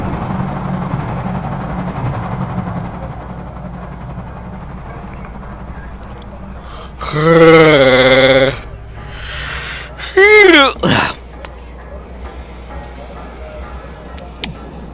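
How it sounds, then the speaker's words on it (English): A person yawns loudly in a drawn-out, wavering groan, followed a couple of seconds later by a second, shorter stretched vocal yawn, close to the mic over faint game background. "Oddly enough, you yawning reminds me"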